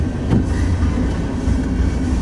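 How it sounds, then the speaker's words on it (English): A westbound grain train rolls past during a winter storm, a loud, close, continuous low rumble of wagons with faint rhythmic wheel clatter and no talking. "that is the end of the westbound grain train"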